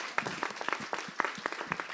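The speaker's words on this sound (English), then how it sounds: "So I just say a big round of applause for the members here." An audience at a climate session in the Indonesia pavilion claps for the panel members. The applause is faint and distant, a short burst of many overlapping claps.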